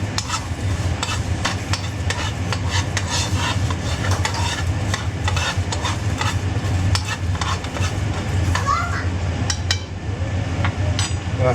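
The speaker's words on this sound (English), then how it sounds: "Keep stirring." A spice mixture is stirred steadily in a pan, a continuous scraping, rubbing texture with faint sizzling underneath, close and even throughout with no voices.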